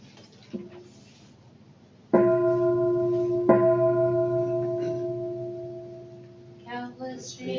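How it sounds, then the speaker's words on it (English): A meditation bell is struck twice to guide a closing chant, each strike ringing with a clear sustained tone that slowly fades, after a faint tap and before soft voices begin. "Lisa will guide us through with her bell"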